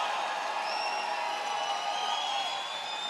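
A rally crowd at a Trump rally in Pennsylvania roars and cheers in a dense, steady wall of sound with high whoops riding on top, loud and continuous throughout.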